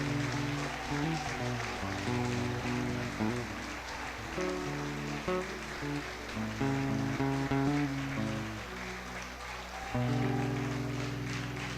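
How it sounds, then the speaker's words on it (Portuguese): A church congregation applauds steadily for the full length, a dense, even patter of many hands layered over sustained music with occasional voices. "Dê um forte aplauso ao Senhor."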